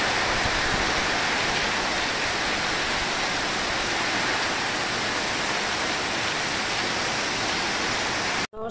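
Heavy rain pours down in a dense, even hiss that stays loud and unbroken, then cuts off abruptly at the very end.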